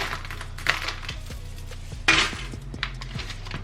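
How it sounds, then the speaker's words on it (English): Small Dollar Tree craft rocks are tipped into a bowl, giving scattered light clinks and rattles with a couple of louder clattering bursts, close and without talk. "take these Dollar Tree rocks, put a nice amount into this bowl"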